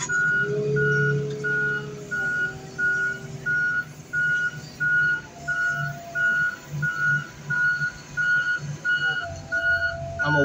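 A truck's reversing alarm beeps steadily in a regular rhythm over a low idling engine rumble, with no talking; a snack truck arriving at a car-crushing yard.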